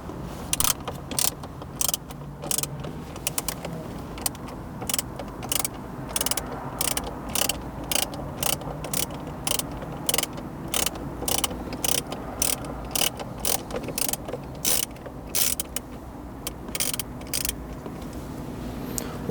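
A hand ratchet clicks in quick bursts, loosening bolts inside the dash of a 2016-2021 Toyota Land Cruiser, close and crisp against a quiet background.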